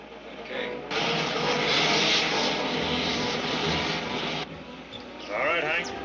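A fixed-wing aircraft roars in on its landing approach in a 1952 film serial, its engine drone swelling loud and steady for several seconds before dropping away, with voices talking over it near the end.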